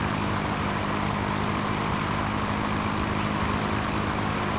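Propeller airplane engine in the flight simulator game Sierra Pro Pilot, a steady loud droning hum with broadband roar that holds constant with no clear drop in pitch, with no talking over it.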